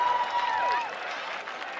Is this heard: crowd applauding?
yes